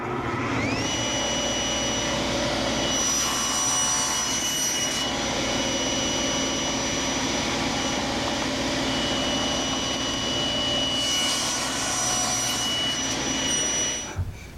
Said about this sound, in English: I'll just nibble that away on the table saw